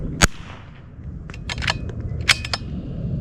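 A precision rifle fires at a 230-yard target on an outdoor range, a single sharp close crack followed by a few fainter snaps and distant impact ticks over steady outdoor noise.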